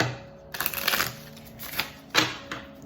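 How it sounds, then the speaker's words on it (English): Tarot cards being shuffled in a few quick riffling bursts, close up, with soft papery flutters and snaps. "Good shuffle."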